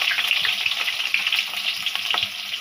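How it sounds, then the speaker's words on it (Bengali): Chopped onions frying in hot oil for a large batch of Dhaka-style chicken biryani give a loud, dense, close-up crackling sizzle that continues without a break, with no voices. "তেলটা গরম হয়ে গেছে, আমি এখানে পেঁয়াজগুলি ঢেলে দিব"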